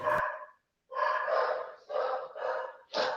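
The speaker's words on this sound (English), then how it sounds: "Why are my dogs barking?" Dogs barking in a short volley indoors, several harsh, breathy barks in quick bursts with a brief gap after the first, fairly close and clear, with no talking.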